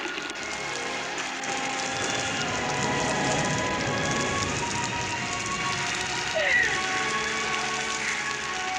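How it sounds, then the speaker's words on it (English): Steady rain pours down throughout with a dense hiss and patter, joined by faint sustained musical tones in the background. "It's raining."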